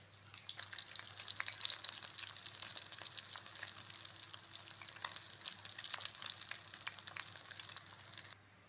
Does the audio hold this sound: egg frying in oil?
yes